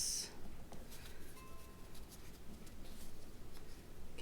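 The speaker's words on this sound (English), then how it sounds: "Flip it over and I'm going to fold this." Paper for a small origami Santa gets flipped and folded, giving soft close rustling and creasing scrapes at a low, steady level, with no voices.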